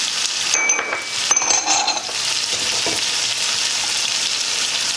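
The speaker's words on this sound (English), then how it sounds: "Make that fry up now because you want it to get a" Green and red sweet peppers fry in a pan for Jamaican ackee and saltfish, a steady bright sizzle with a few stirring scrapes and light clinks near the start.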